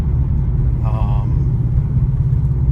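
Inside a Subaru BRZ/86 fitted with a JDL UEL Garrett turbo kit and JDL overpipe and front pipe, a steady low engine and exhaust drone during normal driving, with a brief higher whine over it.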